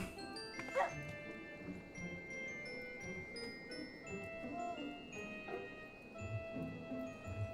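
A Shiba Inu dog in Final Fantasy XIV gives a short burst of barks near the start, with a softer yip later, over steady game music.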